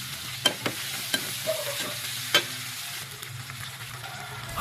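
Tomato, shrimp paste and smoked fish frying in a pan as they are stirred, with a steady low sizzle broken by a few sharp utensil scrapes and taps close by.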